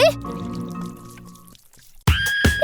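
Paint pours and drips in a playful art challenge, a wet, liquid flowing sound up close that stops and then resumes, with voices and background music.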